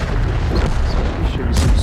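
A tank cannon fires in a video game tank battle: a loud, booming blast over a constant heavy rumble of engines and battle noise, with a voice talking over it.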